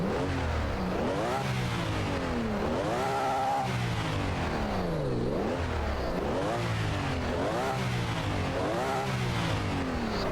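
Car engine in Genshin Impact revving repeatedly, its pitch climbing and falling in regular sweeping waves, loud and continuous with no speech over it.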